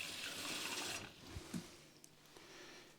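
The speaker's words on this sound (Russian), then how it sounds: "И наливаем водичку." Water pours steadily from a spout into a glass fermentation jar of pickled peppers fitted with a membrane lid, a close, bright splashing stream for about a second before it stops, followed by faint clinks and handling noises.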